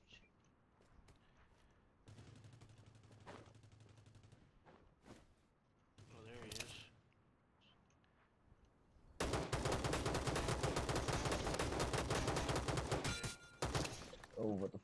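Automatic gunfire in a shooter video game, with a short burst early, then a long sustained loud volley of rapid shots in the second half, mixed with scattered louder single cracks; a voice speaks briefly between bursts.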